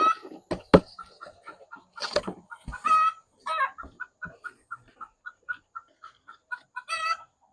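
Backyard chickens squawk and cluck in a run of short, repeated calls, several sharp loud squawks early on, then a steady series of quieter clucks and a final harsher burst, no talk.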